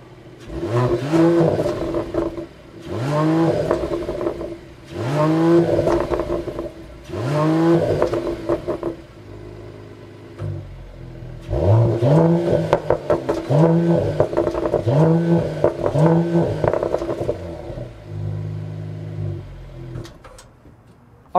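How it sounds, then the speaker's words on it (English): Mercedes-AMG E53 sedan with a performance exhaust and quad tailpipes, revving loudly in repeated bursts that rise and fall, followed by a longer stretch of engine note with quick blips before settling toward idle. "what did you think of the E53's performance exhaust?"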